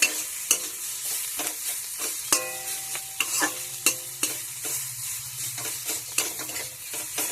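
Coriander leaves, roots still attached, stirred in a frying pan for Bengali fish curry, giving a steady loud sizzle broken by repeated sharp scrapes and clinks of the spoon at an irregular rhythm.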